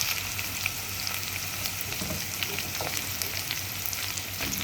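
Brinjal, potato and other vegetables sautéing in oil in a pan for sambar, a steady close hiss of frying with occasional stirring scrapes throughout, no talk.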